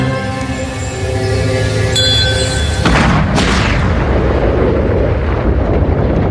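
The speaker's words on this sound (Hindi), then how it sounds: "ये बड़ी अच्छी बात है कि पृथ्वी पर इतना एंटी मैटर नहीं है कि उसमें ऐसा विस्फोट हो सके" An animated explosion of an antimatter apple: a tonal hum cut by a sharp bright burst, then a deep rumbling boom that rolls on and slowly fades.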